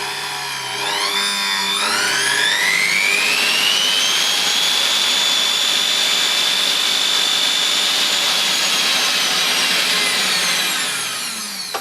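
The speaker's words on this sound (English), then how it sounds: "Using this blender mode as a ballast." A blender motor run through a variac as a ballast gives a steady, loud whine that rises in pitch and holds, droning continuously with a bright electrical hum before tapering slightly at the end.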